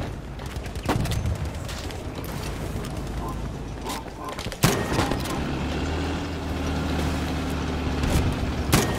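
A tank's engine in the Battlefield V battlefield, a low continuous rumble that swells louder after a sharp bang midway, surrounded by scattered gunfire and explosions, with a player's voice talking over the combat.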